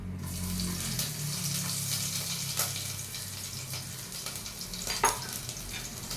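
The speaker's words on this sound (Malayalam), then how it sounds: "കടു പൊട്ടിക്കാൻ വേണ്ടി മാത്രം. അതിലേക്ക് നമുക്ക് കടുക് ഇട്ട് കൊടുക്കാം." Mustard seeds sputter in hot oil with a continuous hissing sizzle, broken by a few sharper pops and crackles.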